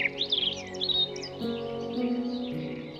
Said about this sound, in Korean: 12마리의 물새들이 잔잔한 호수를 헤엄친다.